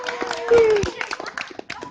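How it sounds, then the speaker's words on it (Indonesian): An audience at a stand-up comedy show in Banda Aceh claps in scattered, uneven bursts, with a voice talking over and between the claps. "Oke, tepuk tangan sekali buat mereka semua"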